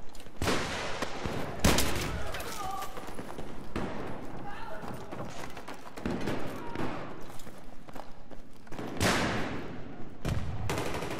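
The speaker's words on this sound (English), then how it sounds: "I'm still getting shot at." Gunfire from the video game Battlefield 3, in a pistols-only match, crackles in repeated sharp shots and bursts, some close and loud, others more distant, under frequent player talk.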